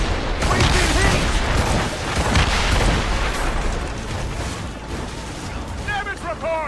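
Cannon fire and hits on a sailing warship in the video game Assassin's Creed Rogue make heavy booming blasts and crashes in a loud, continuous naval battle, with voices shouting over it.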